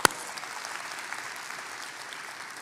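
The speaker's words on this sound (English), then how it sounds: "Clap for Dallas right quick" Applause from a small crowd for Dallas on a trap-style finance show, a steady wash of clapping that holds evenly, with a sharp knock right at the start.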